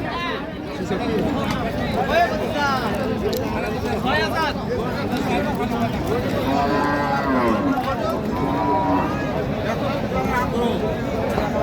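Barren cows sold for fattening at the Ambari cattle market in Dinajpur district low occasionally amid a loud, constant crowd babble and nearby talking.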